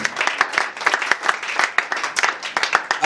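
A church congregation at a Bible seminar clapping together, a dense, lively round of many hands with uneven peaks and a few faint voices.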